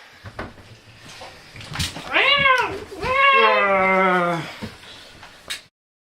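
A cat gives two long, loud meows close by, the second drawn out and wavering, in a dramatized reading of Poe's The Black Cat, with faint knocks and rustles before and after.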